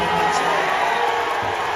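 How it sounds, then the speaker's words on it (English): A rally crowd cheers in a dense, continuous roar of mixed voices, loud and sustained through a short burst. "And then they cheer."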